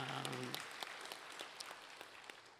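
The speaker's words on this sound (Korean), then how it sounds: "선제 박수로 하나님께 영광 돌리겠습니다" A congregation bursts into applause during a Korean Sunday church service. The clapping is faint and distant and begins as sustained keyboard tones stop. It thins into scattered, separate claps toward the end.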